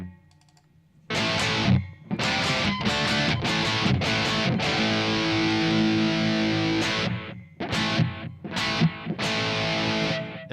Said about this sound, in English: It's a Memory Man delay, and it sounds like this.